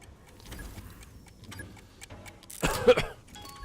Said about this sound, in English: I have got such a bad cough, dude.